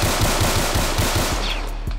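Rapid automatic gunfire in the Roblox game, a dense, loud burst of shots in quick succession that fills most of the moment before easing off, with no talking.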